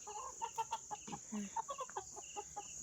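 Repeated short clucks from a chicken, close by, with a brief lower squawk partway through; no talking.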